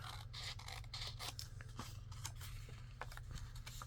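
Scissors cut through paper toward a score line while making a pocket, giving steady close crisp snipping and scraping strokes over a constant low hum, with no talking.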